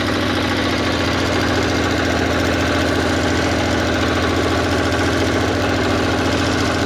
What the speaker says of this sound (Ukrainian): Бачите, як тихенько ти рухаєшся за мотоблоком.